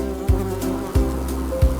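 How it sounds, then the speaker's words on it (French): Loud, continuous buzzing of bees fills a room in a children's counting rhyme, a droning hum under light music with a soft thump that recurs roughly every two-thirds of a second. "il y avait un fort bourdonnement dans la pièce"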